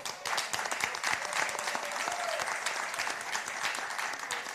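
Audience applause fills a hall at a music-industry intellectual property event, a dense, steady wash of many hands clapping throughout, loud and sustained without a break.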